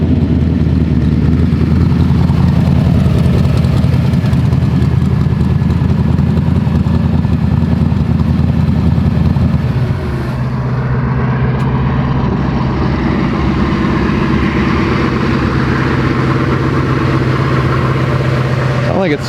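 A turbocharged, carbureted street race car engine running rich at low RPM drones loudly and struggles to build boost, its tone dropping and roughening partway through, with people talking over it.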